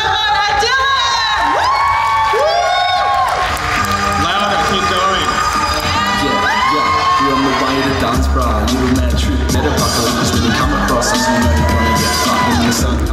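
Crowd at an outdoor live show at the Beyond The Valley festival near Melbourne, with a dense, steady roar of cheering and whoops over thumping bass, and excited voices rising throughout.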